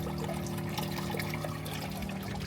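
Water trickles and dribbles out through small drilled holes in a DIY livewell made from a 20-gallon Rubbermaid trash can, a steady faint splashing flow with a low pump hum underneath and no talking.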